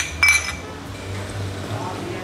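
Beer glasses clink together once in a toast at a Spanish craft brewery in Madrid: a short bright chime near the start, then a low murmur of room noise and faint voices.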